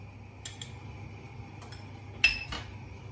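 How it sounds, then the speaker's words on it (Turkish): A spoon mixes ketchup in a bowl for yayla soup, giving a few faint, light clinks of metal against the bowl, scattered apart against a quiet background, with no talking. "Güzelce karıştırıp çorbaya ilave edeceğim bunu."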